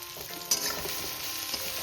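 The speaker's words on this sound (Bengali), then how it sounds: "বেগুনটা একটু ভেজে নেবো পেঁয়াজের সাথে" Brinjal frying with onion and spices in a pan for a drumstick flower chochhori makes a constant close sizzle, broken once early by a brief clatter of stirring, with no speech.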